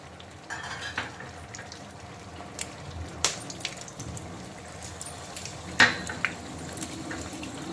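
Dried red chillies and five-spice seeds spitting and sizzling in hot mustard oil, a steady close-up frying hiss with a few sharp pops and spatters, no voices.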